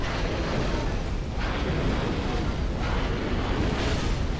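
A loud, continuous roar of flame engulfs a sword as it ignites in the video game Dark Souls 2, a dense rumbling blaze with faint surging swells and no speech.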